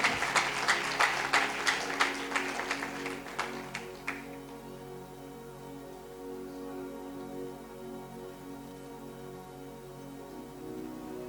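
An audience at a sermon claps together in loud, rhythmic unison for about four seconds. The applause then stops, leaving a quiet room hum.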